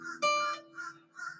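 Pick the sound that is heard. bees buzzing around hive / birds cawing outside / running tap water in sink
birds cawing outside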